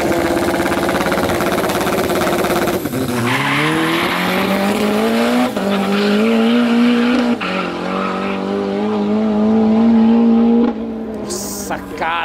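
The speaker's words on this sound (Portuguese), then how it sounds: "É um carro muito rápido. E é um Chevette perua." A Chevrolet Chevette station wagon with a naturally aspirated engine launches hard down a 200 m drag strip, its engine note climbing steadily through repeated gear changes, loud and close, with faint voices underneath.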